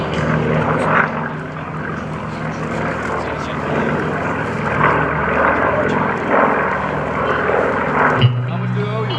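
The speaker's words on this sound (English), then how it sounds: "Aircraft to take off" A warbird propeller aircraft takes off at the 2011 Blue Angels Homecoming airshow, its engine a loud, continuous droning roar that holds steady throughout, with people talking nearby underneath.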